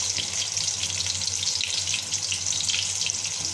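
Kofte fry in hot oil, giving a continuous, loud, close sizzling hiss that stays even throughout with no pauses and no voices.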